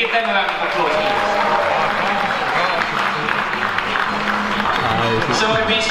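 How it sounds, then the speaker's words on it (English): Audience at a creator convention applauds steadily, a dense wash of clapping and crowd noise holding at even loudness throughout, with voices mixed in. "Can you give them a round of applause, please?"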